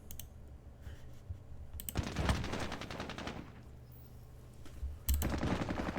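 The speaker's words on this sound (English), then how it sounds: "We could, however, open fire." Gunfire in the Squad Battles Vietnam computer game, set at Hue City in 1968, comes as two bursts of crackling rapid shots, the first longer and the second starting abruptly near the end, with clicks between them.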